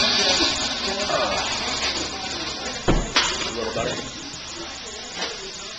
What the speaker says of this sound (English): This is our vacuum pump.